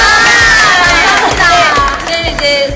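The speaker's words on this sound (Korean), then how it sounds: "아, 일단 박수." A studio audience bursts into loud, close cheering and excited high-pitched shouting, a dense wall of voices that holds strong and then eases slightly toward the end.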